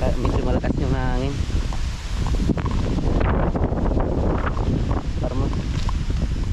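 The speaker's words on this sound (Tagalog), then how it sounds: "Yun ang medyo malakas yung hangin." Strong wind buffets the microphone in a steady, loud roar on a farm, with gusty rumble throughout and a person talking beneath it.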